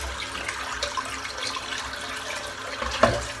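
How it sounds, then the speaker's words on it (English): Water running from a tap into a bathroom sink as it fills, a steady broadband rush that continues throughout with a small clunk near the end. "let's get the sink filled up"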